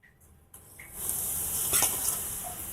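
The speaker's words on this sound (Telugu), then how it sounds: "ఈ రవ్వ ఉన్న కొబ్బరి రెండు వేసి బాగా దోరగా వేంపుకోవాలి." Semolina and grated coconut roasting in a pan for rava laddu hiss and sizzle, starting after a few quiet clicks and then settling into a steady close frying sound with a brief stirring scrape, and no voices.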